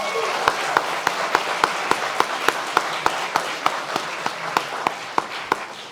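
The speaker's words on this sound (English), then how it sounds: "Can I get a round of applause for Emma Reynolds just to start off?" Gala audience applauding at an annual charity evening, a dense wash of clapping with sharp, evenly spaced louder claps cutting through, steady and fairly close for the whole stretch.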